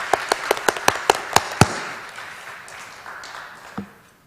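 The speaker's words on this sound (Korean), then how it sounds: "경탄하는 마음으로 박수 한번 할까요?" At a family-worship seminar with a pastor, a handful of people clap: about eight sharp, distinct claps in quick succession, followed by softer, scattered clapping that fades, with one last isolated clap.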